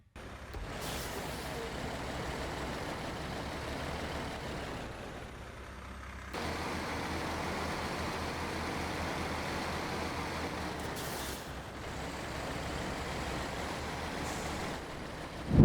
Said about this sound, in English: And here is the sound of the engine of the Mack TerraPro.